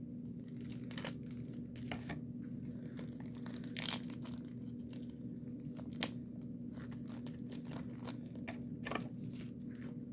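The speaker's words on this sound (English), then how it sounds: "This pack just does not want to open." The foil wrapper of a 1957 baseball card pack is torn open slowly and carefully. Scattered crinkles and sharp tearing bursts stand out against a steady low hum.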